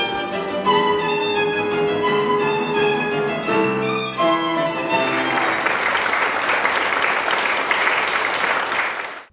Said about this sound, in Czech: Publikum v Kameničkách odměnilo mladého hudebníka zaslouženým potleskem.